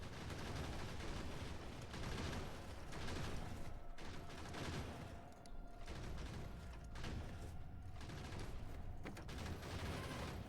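Rapid automatic gunfire rattles on and off in Factorio, quiet and fairly steady, with short gaps in the shooting and no talk.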